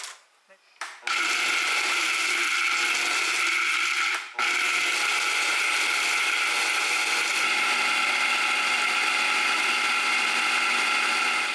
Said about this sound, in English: we're going to grind this into a nice powder